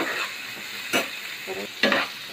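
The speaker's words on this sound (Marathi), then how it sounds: "आपण फ्लावर टाकलाय तो पण परतून घेतलाय।" Cauliflower stir-frying with other vegetables for street-style veg fried rice, a steady background sizzle broken by a few short scraping stirs of the spatula, with no voices.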